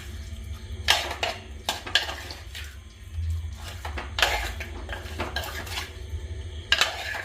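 A spoon clatters and scrapes against a pot while fish curry is stirred with ground spice paste, sharp metallic knocks at irregular intervals over a low background hum.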